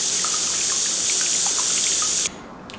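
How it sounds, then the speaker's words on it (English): A coffee maker heating water gives a steady, loud hiss with faint dripping and gurgling water underneath, cutting off abruptly near the end. "This thing literally sounds like it's gonna explode when it's brewing coffee."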